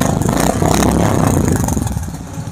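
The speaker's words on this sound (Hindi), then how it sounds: "आपको मैं एक बार स्टार्ट करके दिखा देता हूँ गाड़ी" A second-hand Royal Enfield Bullet-style motorcycle engine starts and settles into a loud, steady, close thumping idle with a mechanical clatter.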